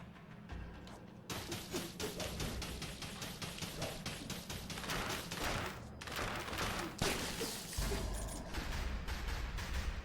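Rapid, continuous bursts of automatic fire from a horizontal turret in the video game Dead Cells, a dense rattling barrage running nearly the whole clip, loud and steady with brief dips.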